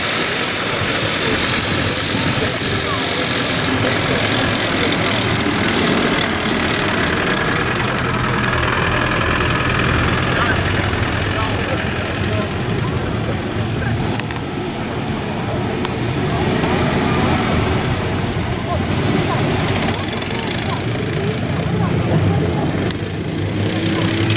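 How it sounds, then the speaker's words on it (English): Vehicles drive toward the main arena at a Market Harborough show: a continuous rumble of idling and slowly moving engines with a steady traffic-like drone and mechanical vibration, fairly loud throughout. "a few more interesting vehicles on the way down for you here"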